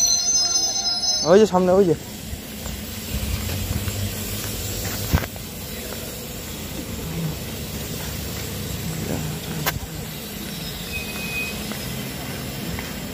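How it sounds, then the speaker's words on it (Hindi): Passenger train on the way to Gujarat, heard from on board, with a sharp squeal of wheels early on, then a steady rumble and clatter of rails beneath, someone talking briefly. "आज का जो वीडियो है वो शुरू होता है ट्रेन से, क्योंकि मैं आज हूँ ट्रेन पे"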